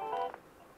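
A telephone keypad beeps one short DTMF tone when the number sign key is pressed, quiet and brief, followed by faint line hiss.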